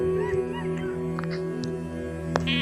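A dog whimpers and yips in short bursts over a steady background hum, with a few sharper cries near the end.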